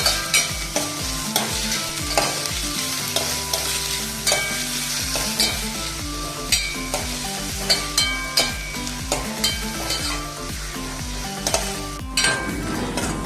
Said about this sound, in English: now we have to fry these onions till they are nice golden brown in color.